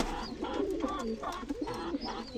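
Soft, repeated cooing of several doves or pigeons, low and rhythmic, over a steady background murmur.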